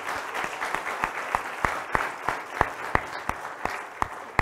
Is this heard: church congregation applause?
yes